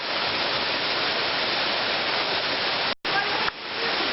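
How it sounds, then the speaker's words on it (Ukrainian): Maniava waterfall, the highest in Prykarpattia, roars as a loud, dense, continuous rush of falling water, broken by one brief cut near the end. "Ось зараз ми знаходимося на самому високому водопаді Прикарпаття, Манявський водоспад."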